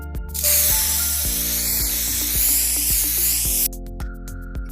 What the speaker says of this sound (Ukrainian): Розпіліть засіб на суху шину, відстань приблизно 15-20 см.